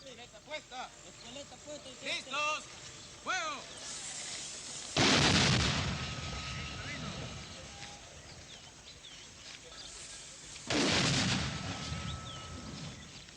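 Two heavy, booming mortar blasts land several seconds apart during an army clearing operation against rebel-held houses and small farms in the mountains of El Salvador, with birds chirping before the first blast.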